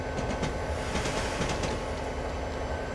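A train in Train Simulator 2017 runs along the rails with a steady, close rumble and faint rhythmic clicking of wheels, with no talk.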